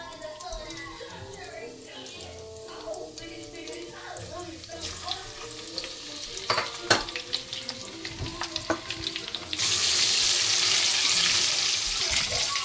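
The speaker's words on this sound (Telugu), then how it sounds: "ఓకే అండి, ఆయిల్ వేడెక్కింది. ఇప్పుడు మనం ఆవాలు యాడ్ చేస్తున్నాం." Mustard seeds, cumin and dried red chillies frying in hot oil for a tomato pachadi give off crackling pops and sizzling at moderate loudness, ending in a louder, steady hiss.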